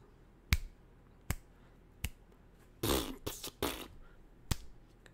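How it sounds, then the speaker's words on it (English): Finger snaps, several sharp isolated clicks spaced about a second apart, with a brief burst of rustling handling noise in the middle, close and fairly quiet, no talk. "my snaps are super powerful"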